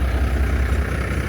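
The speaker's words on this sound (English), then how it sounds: "Stopped and cranked the spreader truck." A spreader truck engine idles steadily just after starting, with a deep, even low rumble and no voices.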